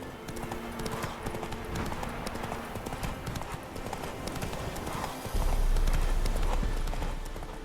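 Roach the horse gallops across open ground in The Witcher 3, hooves clip-clopping in a fast, steady rhythm at moderate volume, with a brief louder thud near the end.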